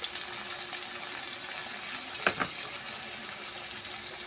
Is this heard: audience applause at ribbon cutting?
no